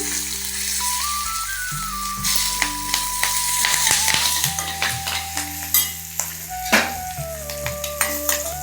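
Curry leaves and green chillies crackle and sizzle loudly in hot oil while making lemon rice, with a spoon stirring and scraping the pan and a thin tonal whine in the background.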